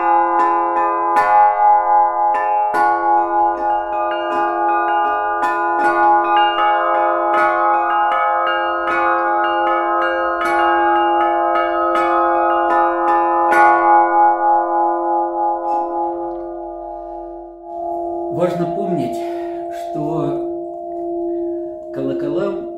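Church bells ring in a long sequence, strikes layered over a sustained humming tone that slowly fades, with a voice beginning to speak near the end.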